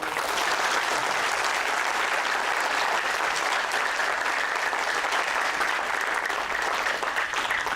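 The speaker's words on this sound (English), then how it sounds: "Can you clap even louder and then make some noise?" An audience at a campus creative talk claps hard and steadily, a loud, unbroken wash of applause filling the whole stretch with no talk over it.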